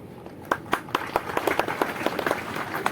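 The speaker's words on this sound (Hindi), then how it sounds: "और हमारे सब लोग जोरदार तालियों से उनका स्वागत कर रहे हैं" Audience applause welcoming new students, including many female students, at the National Sugar Institute in Kanpur: scattered, fairly sharp claps with a steady crowd wash, moderately loud, continuing for a few seconds with no talk.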